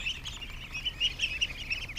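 A small group of ducks calls close by in a rapid stream of short, bright chirping peeps over a faint low background, with no talking.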